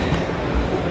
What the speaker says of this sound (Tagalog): Nandito pala sa taas yung mga tren.